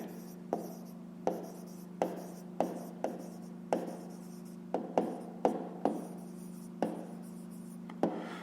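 A pen writes out the solution to a fifth-grade math exercise, scratching in a string of short, close strokes over a faint steady hum.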